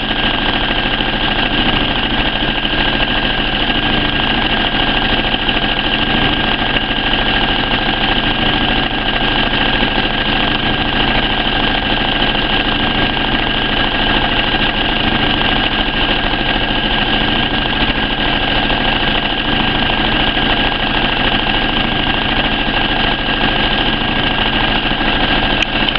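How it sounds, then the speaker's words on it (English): Sewing machine stitching a fabric hem with a decorative stitch runs in a steady, continuous whir and hum at close range for the whole stretch, with no voices over it. "Gently just guide your fabric on your machine."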